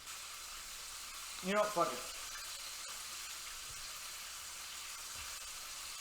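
Cheeto-coated chicken pieces frying in oil give a constant, moderate sizzle. Someone briefly speaks over it early on, and the bubbling hiss then carries on alone.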